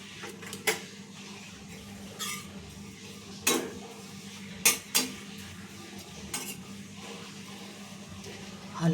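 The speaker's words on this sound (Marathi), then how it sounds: "गॅस ऑन करून गरम झाल्यानंतर आपण आधी भाजून घेणार आहोत." Dried fish (sukat) is dry-roasted without oil in a pan over a gas flame, and a utensil scrapes and clinks against the pan in scattered sharp taps over a low steady hum.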